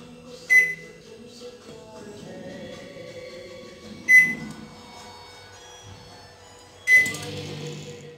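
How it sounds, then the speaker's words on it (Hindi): A microwave oven heating two mug cakes hums with a low mechanical drone, broken by three sharp, loud electronic beeps spaced a few seconds apart, with faint rattling in between and no talk. "ये दोनों मग मैंने रख दिया है माइक्रोवेव में, एक मिनट का टाइम सेट करूंगी।"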